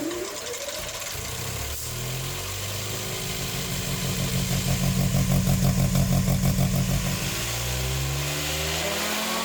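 A 7.0-litre quad turbo V12 car engine on a test stand, idling and then revving up into a loud, pulsing roar that holds for several seconds before easing back, heard close with no talk.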